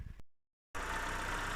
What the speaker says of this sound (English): So as you can hear, I've got the engine running now.